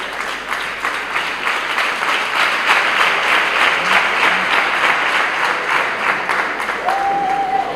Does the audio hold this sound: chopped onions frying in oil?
no